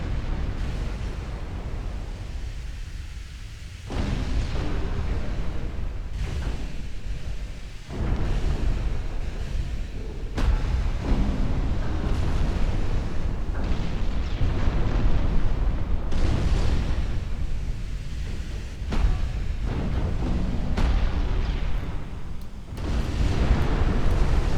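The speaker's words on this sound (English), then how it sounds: "We have 14 and 12-inch guns working her over." Heavy 14-inch and 12-inch naval guns fire in a warship battle against a Chinese ship in Ultimate Admiral Dreadnoughts, a game; loud booming salvos repeat at irregular intervals over a continuous rumbling roar, with no voices.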